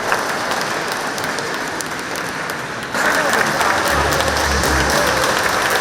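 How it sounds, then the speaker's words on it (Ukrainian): A crowd gathered for a hospital anniversary applauds a former head of the regional hospital, with steady dense clapping that grows louder partway through. A voice speaks over the applause. "З аплодисментами зустрічали й колишнього очільника обласної лікарні Івана Сидора"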